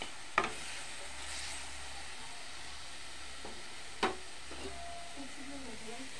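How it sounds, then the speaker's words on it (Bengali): A spoon stirs spice masala with water in a pan for a paneer dish over a steady low sizzle and hiss, with a couple of sharp clinks against the pan. "জল দিয়ে দিয়েছি মশলাটাতে, এখন দিয়ে দেবো, একটু নাড়াচাড়া করবো।"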